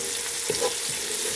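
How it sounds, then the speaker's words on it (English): Caramelizing red onions sizzling in a pan as they are given a quick stir, a brief scrape over a steady frying hiss. "Just going to give them a stir,"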